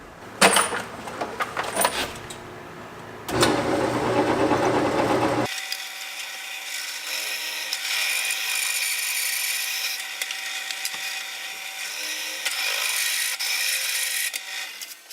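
Harsh broadband grinding and whirring from a drill press cutting with a 1-inch hole saw, steady and loud after a couple of rougher bursts at the start, with no talking.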